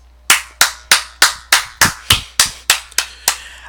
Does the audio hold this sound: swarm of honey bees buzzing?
no